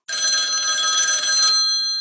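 A telephone bell rings inside a recording booth, one continuous bright electronic trill lasting over a second, then cutting off and leaving a short fading tail; clear and close with nothing else around it.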